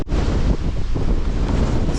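Strong wind gusts of roughly 30 to 40 mph buffet the microphone on a mountain hiking trail in Grayson Highlands State Park, Virginia, a loud, roaring, continuous rush with low rumbling surges.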